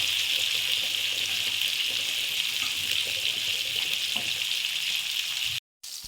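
Fish fries in a pan with a loud, close, continuous sizzle and spattering crackle that runs without pause before cutting out briefly near the end, with no talk over it.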